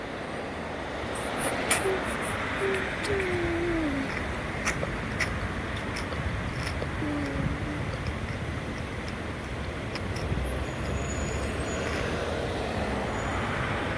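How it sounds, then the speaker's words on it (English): A train replacement bus and a route 734 bus pulling away from a stop at Holmsglen TAFE, a continuous broad engine rumble with a couple of faint tonal whines and brief hiss bursts, fairly near and steady. "there goes the train replacement bus"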